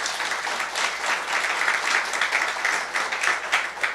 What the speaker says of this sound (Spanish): vamos a darle un fuerte aplauso a ellos